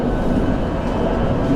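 Interior of a moving train travelling overland from Malaysia toward Thailand: a steady low rumble and rolling hum with no distinct events, loud and continuous throughout.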